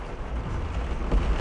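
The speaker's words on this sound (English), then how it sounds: "it better not be raining like this" Steady rain pours down outdoors, a dense, close hiss with low rumbling underneath and no voices.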